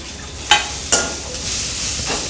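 Onions fry in a pan with a steady, fairly loud sizzle, broken by two quick stirring scrapes early on; no one speaks.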